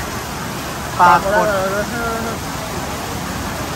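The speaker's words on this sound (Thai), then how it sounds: "พูดแข่งกับสายฝนกันเนาะ" Steady rain hisses over a riverside Thai restaurant as an even, wide wash of noise that lasts the whole stretch, with a voice briefly talking over it.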